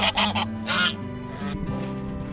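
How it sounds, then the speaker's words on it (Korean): Hungry domestic geese honk loudly and insistently at close range, several harsh blaring calls in quick succession followed by lower, overlapping grumbling honks. "배가 고픈 거위들은 밥 달라고 나에게 따진다."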